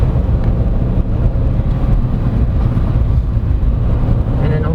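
A 2022 Honda CR-V SX diesel AWD crossover accelerating to overtake, a loud continuous low engine and road drone from inside the cabin, steady throughout.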